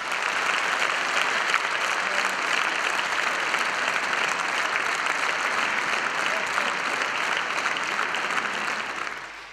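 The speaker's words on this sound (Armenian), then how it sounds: "մեկ ընդհանուր մի ջերմ ծափահարություն էր բոլորին" A concert audience at an Armenian song evening gives sustained, warm applause, a dense, even clatter of many hands clapping that fills the hall at steady loudness for nearly ten seconds.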